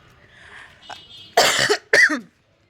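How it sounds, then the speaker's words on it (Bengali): Two harsh, close coughs in quick succession follow a quiet breathy moment, then silence. "এখনও আমার কাশিটা কিন্তু ভালো হয়নি"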